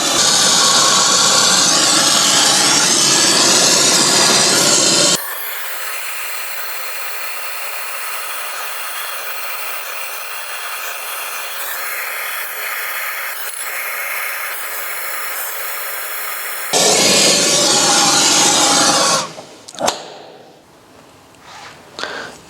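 A gas torch brazes a copper pipe joint during a copper-pipe assembly exercise, giving a loud, steady roaring hiss that eases to a softer, thinner hiss for several seconds, surges again, then cuts off into brief clatter and quiet.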